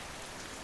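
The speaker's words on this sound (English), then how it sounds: "The rain continues its mournful rhythm" Steady rain falling as a dense, even hiss, continuous and soft with no other sounds.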